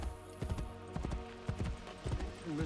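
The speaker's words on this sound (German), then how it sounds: "Nehmen wir mal hier dieses schwarze Pferd. Mensch, ist das schnell." Rhythmic hoofbeats of a black horse galloping in Assassin's Creed Brotherhood, rapid and evenly paced, with a faint electronic backdrop typical of game audio.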